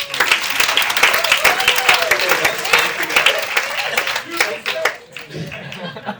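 An audience applauds steadily for several seconds, the clapping dense and lively before thinning out and fading.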